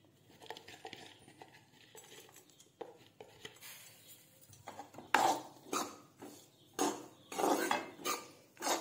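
Chopped cashews and almonds roast in a pan, first with soft low scraping and sizzle, then with louder rhythmic stirring scrapes of a spoon against metal, close and without any voices.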